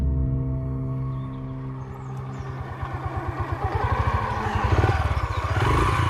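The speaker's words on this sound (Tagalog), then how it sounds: "sumakay na siya sa motor at pinaandar na yon" Motorcycle engine starting as a sound effect in a told horror story, rising into a steady close rumble with pulsing revs that grow louder toward the end, heard alone without talk.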